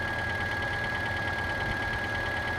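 A car engine idles steadily after a jump start from another vehicle with booster cables, giving a close, even rumbling hum with a constant high whine running over it.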